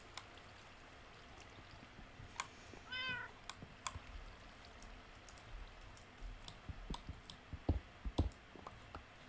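Cats meow in the Minecraft video game, one short rising meow standing out amid scattered clicks and faint game sounds, fairly quiet and with no speech.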